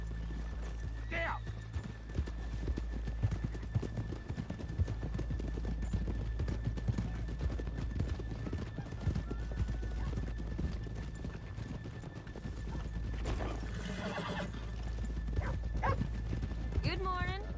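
Horse hooves clip-clop steadily through a PS4 video game scene as the horses are brought to a stop, with a brief whinny near the start and again later, a constant low background drone, and voices talking over it.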